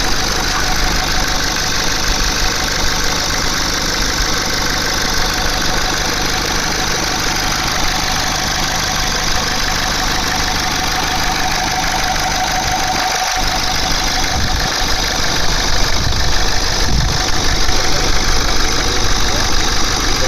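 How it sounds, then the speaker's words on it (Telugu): A 2011 Ford Figo Titanium's engine idles close by with a loud, steady rumble and faint mechanical ticking, plus one brief thump partway through and some low background noise. "ఇంజన్ కండిషన్ అయితే ఇలా ఉంది."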